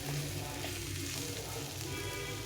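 Black chickpeas and potato masala fry in a pan with a dense, continuous sizzling hiss that holds steady close by for the whole stretch, no voices.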